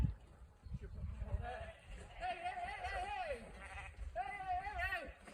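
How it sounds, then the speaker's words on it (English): Sheep bleat in a paddock on a snowy farm afternoon as they come out, several wavering calls overlapping at moderate distance over a low rumble of wind and movement. "So the sheep have now come out"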